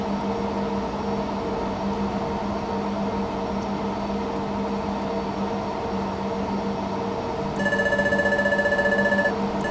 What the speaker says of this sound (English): That's our gear up alarm.